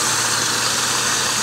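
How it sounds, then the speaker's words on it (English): A 1999 Oldsmobile Alero GL with the 3400 V6 idling, a steady close mechanical hum and vibration with no talking. "So this is what this engine looks like when it's actually running in this car."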